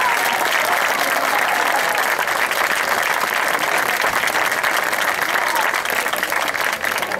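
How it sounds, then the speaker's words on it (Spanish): A large audience applauds a rondalla folk band at an Aragonese folk festival in Sagunto during the town's patron saint celebrations, giving steady, dense, loud clapping that holds evenly throughout. "Un aplauso para nuestra rondalla."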